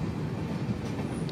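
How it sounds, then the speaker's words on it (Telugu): The Kondaveedu Express rolls along winding S-shaped tracks with a steady low rumble and faint rhythmic wheel clatter, heard from on board, no talk. "మన ట్రైన్ చూడండి ఎన్ని మెలికలు తిరుగుతుందో"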